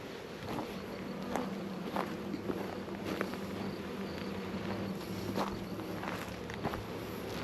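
Honeybees fanning at the entrance of a top bar hive while a package is installed, a steady close buzzing drone with scattered sharper ticks and bumps over it.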